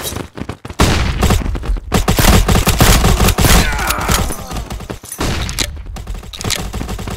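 Flashbang grenade and rapid gunfire in a shooter video game, dense loud volleys of shots with booming bursts running almost continuously, briefly dropping to near-silence twice before the firing resumes.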